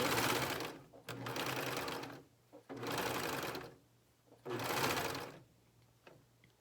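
A sewing machine stitches a neckband in three loud, close bursts of rapid, even whirring, separated by short pauses filled with faint clicks and a low hum.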